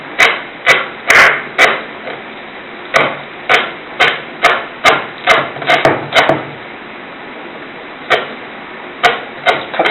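A knife chopping cassava into small pieces on a wooden board, a run of sharp, evenly spaced knocks close by, with a short pause before a few final cuts.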